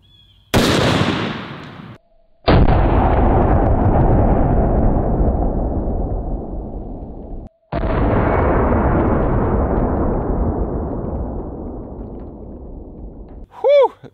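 Booming gunshots from a .500 Magnum revolver fired through a car windshield into ballistics gel: three loud, close blasts spaced several seconds apart, each leaving a long decaying echo, followed by a brief voiced exclamation at the end.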